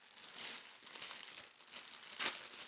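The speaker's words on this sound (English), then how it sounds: "open the clear plastic bag or packet and sliding the backpack out from it" A clear plastic packet holding a Nike FC backpack is torn open, giving soft, close crinkling and rustling with a sharper tearing burst near the end.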